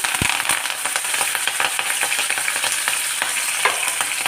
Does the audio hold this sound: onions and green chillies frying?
yes